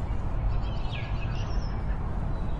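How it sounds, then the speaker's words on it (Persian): A sparrow gives a short run of faint chirps over a continuous low rumbling background, with no voices. "اون یه گنجشکه"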